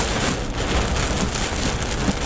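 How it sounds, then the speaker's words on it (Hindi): Dense, steady downpour of heavy monsoon rain drumming on a moving vehicle, loud and continuous with no gaps. "झमाझम बारिश हो रही है"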